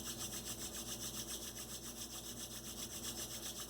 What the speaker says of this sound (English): Let's rub your hands together.